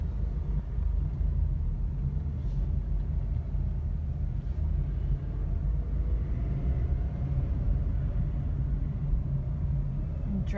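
A car rolls slowly into a business parking lot on a sunny day, its steady low engine and road rumble continuous and fairly loud throughout, with no clear talk.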